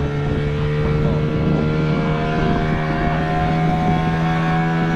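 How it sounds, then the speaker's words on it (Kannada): Motorboat engine on a harbour boat ride near Pondicherry, a loud steady drone with strong low hum and constant wind and water rush throughout, no voices. "ಸ್ಟಾರ್ಟ್ ಆಯ್ತು ನಮ್ಮ ಬೋಟ್ ರೈಡ್."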